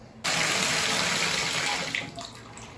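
Water rushes from a three-handle shower valve as the supply is turned back on, starting abruptly as a loud, steady hiss that holds with little change and eases slightly toward the end.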